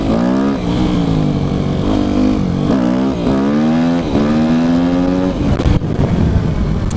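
A Yamaha YZF 250 motorcycle engine revs hard during wheelie attempts, loud and close, with repeated rising throttle sweeps that climb, drop back and climb again, ending in a brief clatter.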